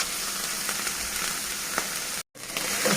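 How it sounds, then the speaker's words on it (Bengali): Onion, garlic and ginger spice paste sizzling steadily in a hot pan, a continuous close frying hiss with a brief dropout near the end before the sizzle resumes. "মশলা ভালো করে ভাজা হয়ে গেছে"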